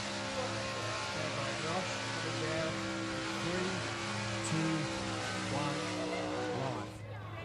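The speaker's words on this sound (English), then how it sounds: "Absolutely massive burnout there" A car doing a massive burnout at a pro burnout final in Alice Springs roars at sustained high revs with tyre screech over a dense, loud, continuous wall of noise, a commentator speaking over it.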